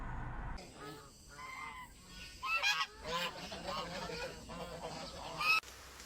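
A farm goose hisses and honks at close range, with harsh raspy calls rising in loud bursts over a steady outdoor background, and no talking.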